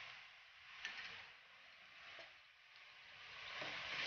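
Onion fries in a pan with ginger garlic paste added, giving a soft, steady sizzle that swells and fades faintly with occasional stirring clicks and no voices.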